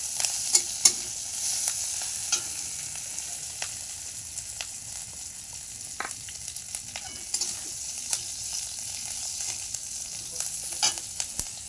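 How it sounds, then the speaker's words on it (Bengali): Curry leaves fry in hot oil for a breakfast dhokla tempering, giving a steady bright sizzle broken by light spatula clicks and scrapes while being stirred. Nobody speaks. "কারি পাতাটা একটু লাল লাল হবে ততক্ষণ ভাজবো।"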